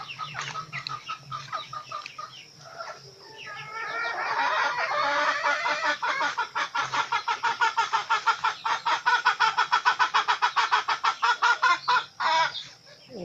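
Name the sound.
chickens clucking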